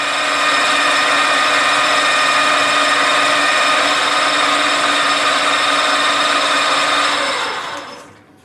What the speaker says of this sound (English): So use a centre drill first.